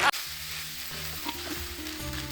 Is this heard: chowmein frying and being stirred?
yes